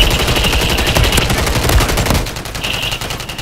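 Rapid bursts of automatic gunfire fill a video game firefight, loud and continuous for a few seconds before easing slightly, with no voices over it.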